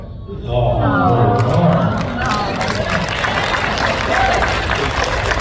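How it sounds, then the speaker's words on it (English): Audience applause and cheering from a crowd at a fan convention, loud and sustained, with steady clapping and excited voices and babble mixed in throughout. "Tell your dad you just got applause."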